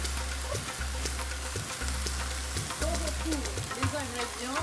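Beef with Thai basil sizzles in a hot pan as sauce goes in, a steady frying hiss running throughout, broken by regular low thumps and some tonal sounds in the background.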